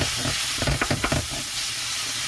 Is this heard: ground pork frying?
yes